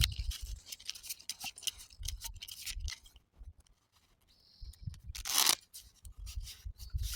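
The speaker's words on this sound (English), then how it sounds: "I got my cards shuffled, but I'll shuffle them again." A deck of playing cards is shuffled again: crisp riffling bursts and flicks come in several close bursts, separated by brief quiet gaps.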